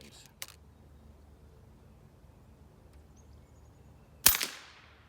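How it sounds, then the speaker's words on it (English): A single sharp shot from an FX Wildcat MKII .25 caliber air rifle cracks near the end, loud and brief against a quiet background with a faint click earlier. "I'll shoot at the upper left, and we'll see what happens."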